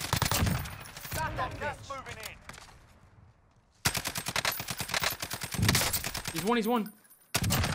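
Rapid bursts of SCAR rifle gunfire in the Warzone battle royale (Modern Warfare), loud and close, with sharp repeated shots in dense volleys that break off and resume, while players talk over the firing.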